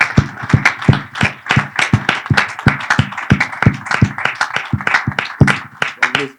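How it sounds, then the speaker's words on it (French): A church congregation claps in praise during a French-English service in Toronto, sharp rhythmic handclaps in steady beats with voices talking and singing beneath. "So before that, we're going to clap for our Lord."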